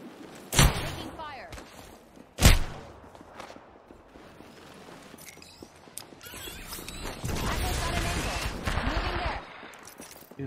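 Gunfire in the Apex Legends battle royale game: two sharp, loud shots near the start, then a denser, sustained burst of fire later, all set among game effects and ambient noise.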